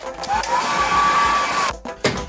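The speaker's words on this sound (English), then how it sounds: "So I actually have a hairdryer just for that occasion." A hair dryer whirs steadily at close range while drying a cleaned 1960s WEM Audiomaster, then cuts off abruptly, followed by a couple of short handling knocks.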